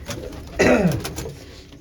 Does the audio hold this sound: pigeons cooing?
yes